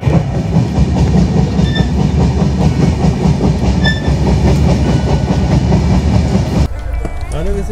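Steady rumble and clickety-clack inside a moving passenger train on a cold day, a continuous loud rolling drone with faint tonal squeals, dropping abruptly near the end as the sound becomes quieter with a voice heard briefly.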